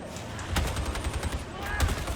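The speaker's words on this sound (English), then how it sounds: "here we are showing off our big gun" Gunfire from a big gun in the game Darktide, a rapid run of loud shots with a couple of heavier blasts, under a steady din of game noise.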